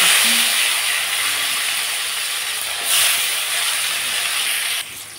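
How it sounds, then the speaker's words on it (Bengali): Nigella seeds sizzle in hot mustard oil in a kadai as a tempering, making a steady, bright, loud hiss that holds evenly and then drops off sharply near the end. "কালো জিরা ফোড়ন"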